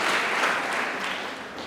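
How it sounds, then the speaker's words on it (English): Dense, steady applause from a large crowd at a high school maths awards ceremony fills the short clip at an even, fairly loud level. "Let us clap for TI Amas."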